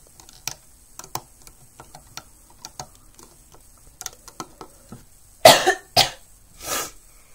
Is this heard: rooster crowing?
no